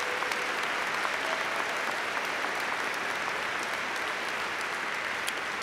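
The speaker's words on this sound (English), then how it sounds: "Let's have a round of applause for them as well." Sustained applause from a large audience at a Buffalo State master's hooding and commencement ceremony, even and continuous, heard from within the crowd with no one speaking.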